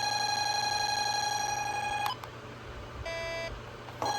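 A Honeywell 5700 alarm panel in alarm: a long electronic tone holds for about two seconds, then a shorter beep follows after a pause, with a steady low hum running underneath.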